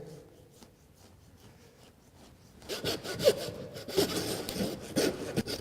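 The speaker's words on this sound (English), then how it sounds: "I'm basically just going to cut straight down there." A knife cuts straight down through a pork loin during butchery, a steady rasping, sawing scrape that begins midway and carries on with rhythmic strokes, close and fairly clear.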